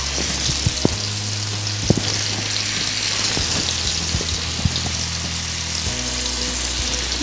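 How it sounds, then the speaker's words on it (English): Sweet potato (shakarkandi) frying on a tawa griddle, an even, continuous close sizzle with scattered soft pops and small clicks throughout, no voices. "On the other tawa, I'm going to put shakarkandi."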